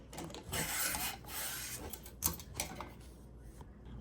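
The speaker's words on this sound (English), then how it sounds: "just putting the bristle end into the end of the barrel and going back and forth completely about 3 or 4 times" A bristle brush scrubs back and forth inside a hunting rifle barrel, giving a soft, fairly quiet raspy rubbing in a few long strokes.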